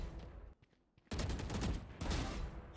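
Rapid gunfire from a VALORANT deathmatch, loud close bursts of shots after a brief quiet gap, then a second sustained volley, with no talking.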